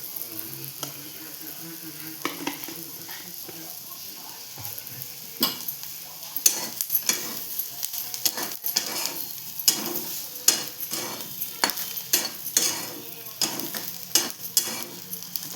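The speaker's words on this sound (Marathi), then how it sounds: "आता परतून घ्यायचं." Homemade masala and chili powder are stir-fried over low heat for an ivy gourd (tondli) curry, a faint steady sizzle punctuated by repeated sharp clicks and scrapes of a spoon against the pan.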